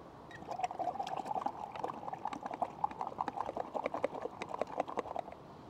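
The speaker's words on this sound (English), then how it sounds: "You can swirl it around quite vigorously in the water, and the water cleans it pretty thoroughly." Paintbrush swirled vigorously in a water jar to clean it during outdoor landscape painting, giving rapid, close, continuous splashing and clinking with no talk over it.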